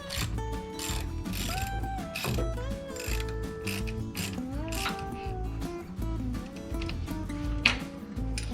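Car battery hold-down being tightened with a ratchet wrench so the plastic case is not crushed: rapid, continuous ratcheting clicks up close, with rising and falling mechanical whine throughout.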